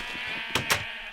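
Two short, close sheep bleats from the Minecraft video game, one quickly following the other, heard over a steady background hum, with no voices.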